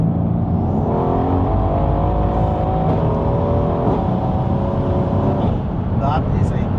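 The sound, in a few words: sports car engine revving after downshift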